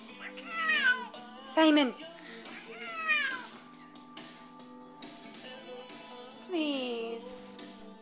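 Big house cat sitting on a chair and meowing repeatedly, several drawn-out, insistent meows close by, mixed with a person pleading with it to get down.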